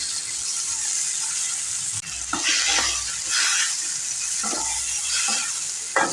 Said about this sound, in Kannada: ಟೊಮೆಟೊ ಎಲ್ಲ ಸಾಫ್ಟ್ ಆಗೋವರೆಗೂ ಬಾಡಿಸ್ಕೊತಾ ಇದ್ದೀನಿ